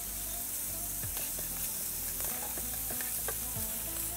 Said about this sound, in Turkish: Tencerenin dört tarafına koydum tereyağlarını ve şöyle eritmeye çalışıyorum.